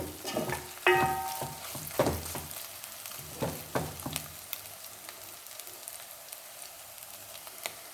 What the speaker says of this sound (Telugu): బాగా కలుపుతూ వేయించుకోండి